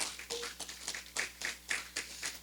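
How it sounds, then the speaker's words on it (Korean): Audience clapping to welcome a university professor at a Korean book-talk forum: a short burst of irregular, fairly soft hand claps at a distance in a quiet room, with no voices. "박수로 환영 부탁드립니다"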